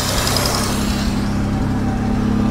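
A 1962 Jaguar car engine that had sat unused for 15 years runs steadily at around 2,500 RPM, a loud continuous droning rumble heard up close with no talk over it.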